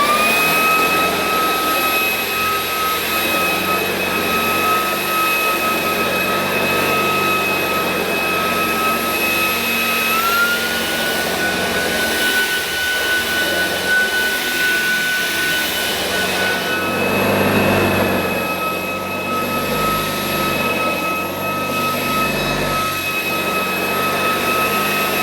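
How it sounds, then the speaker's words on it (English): A Shark Wandvac cordless vacuum runs on Saxony carpet in standard and boost modes, a loud steady whine with a high motor tone that shifts pitch midway, plus faint brushing as it moves, with no talking. "I had no trouble pushing the Shark Wandvac on my Saxony carpet on the regular setting or on boost."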